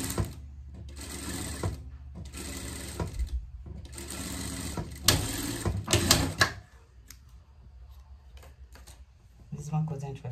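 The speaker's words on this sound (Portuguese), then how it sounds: "Vamos pregar as golas, então, vamos passar na costura aqui." A sewing machine stitches collars onto a Christmas pet dress in close, loud bursts that start and stop several times, with a voice speaking quietly in between.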